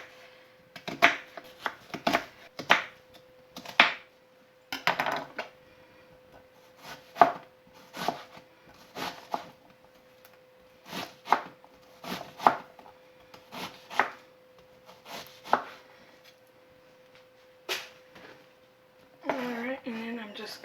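A knife chopping onions on a cutting board, a long run of crisp, irregular thuds close up that pause briefly and resume, with a person talking over parts of it.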